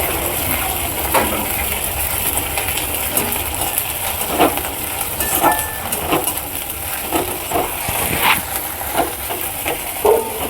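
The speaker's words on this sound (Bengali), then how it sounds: "পেঁয়াজটা আমার ভাজা হয়ে এসছে। এবার আমি দিয়ে দেব আদা রসুনের পেস্ট" Ginger-garlic paste sizzles and hisses with fried onion in a hot pan, a steady crackle broken by scraping and clattering stirs, with no talk.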